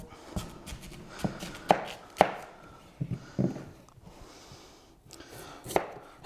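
Knife chopping sweet potatoes on a board at home, a series of irregular sharp close thuds and scrapes with short pauses between cuts, no voices.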